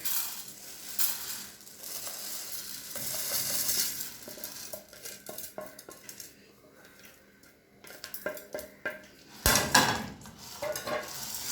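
A cup of rice is dry-roasted and stirred in a hot pan, with a steady scraping and rattling of grains against metal and occasional louder clanks of the utensil, close and alone without talk.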